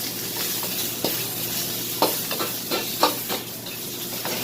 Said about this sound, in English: Preheat very hot. Add some jumbo shrimp.